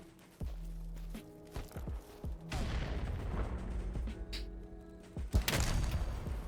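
Gunfire and heavy booms from a first-person shooter video game, several sharp shots and explosions in quick succession over a rumbling, sustained battle din.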